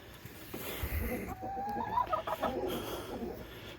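Agitated chickens cluck and squawk close by in short, uneven bursts, with a few rising calls.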